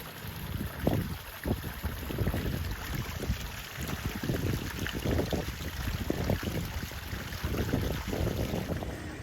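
A pond waterfall in a Minnesota backyard koi pond runs steadily in cold early-spring weather, a continuous close rushing and splashing with gusty wind noise over the microphone throughout.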